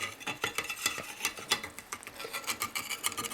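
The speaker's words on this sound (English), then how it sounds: "I'm gonna take just a butter knife here, go around the edges" A butter knife scrapes around the edges of an upside-down peach skillet cake, giving soft, repeated metallic ticks and scratches at a close, quiet level with no talk.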